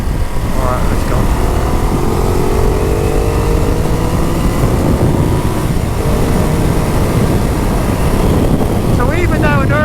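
A 2016 Ducati Multistrada 1200 DVT pulls away under load, its engine a loud, steady drone heard close up from the rider's position, with heavy wind rush over it.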